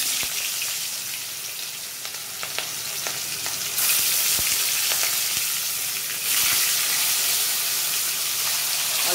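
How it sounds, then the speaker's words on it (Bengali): Fish frying in about a cup of hot white cooking oil, a steady loud crackling sizzle with popping spatters that swells louder partway through and holds, with no voices. "এখন আমি মাছগুলো ভেজে নেব, তেল গরম হয়ে গেছে।"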